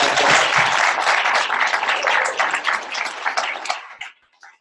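Applause from a charity event audience for the Arc of Rockland, a dense burst of many hands clapping that holds steady and then thins out and stops near the end.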